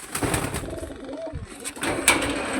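Pigeons in a rooftop coop setup coo in soft repeated rumbles, close by, with scattered chirps, wing flutters and light background noise throughout.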